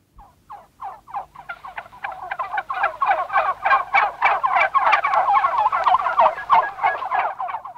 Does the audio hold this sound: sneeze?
no